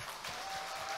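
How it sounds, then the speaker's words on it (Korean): An audience claps continuously at a chairman inauguration ceremony and anniversary celebration, a dense, even patter of many hands filling the whole moment. "우리 백현수 회장님께 큰 박수 한번 부탁드리겠습니다."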